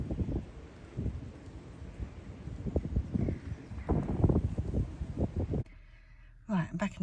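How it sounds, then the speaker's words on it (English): Wind blows through an orchard and buffets the microphone with a rough, rumbling rush. A person talks over it almost the whole time before the sound cuts to near silence near the end. "It's a bit windy. I don't know if you can hear me actually."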